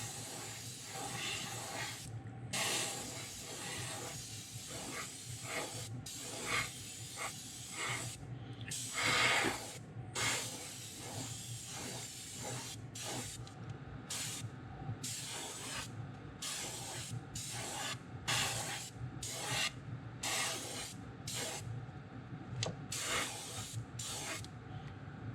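A spray can lays light coats of paint on a custom V37 Wiggle Wart fishing lure, with repeated short hissing bursts, some spaced apart and later coming in quick succession, fairly close but soft throughout.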